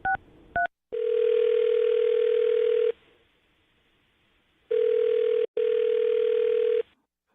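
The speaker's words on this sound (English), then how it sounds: "we'll call his phone number right now and see if we can get him on the phone" Two short dialing tones, then a phone call's ringback on a loud steady tone in long bursts separated by a quiet pause, heard close and clear with no voices.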